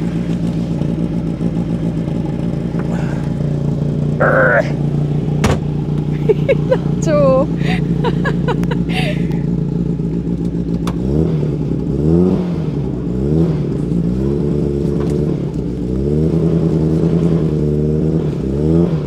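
Old Austin Allegro engine running loud and close, idling roughly with repeated revs rising and falling, while people talk over it.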